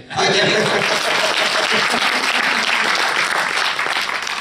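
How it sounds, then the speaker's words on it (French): A film premiere audience breaks into loud, sustained applause for a woman named Camille, dense clapping filling the room with scattered chuckles and voices underneath. "Ah, on l'applaudit, Camille."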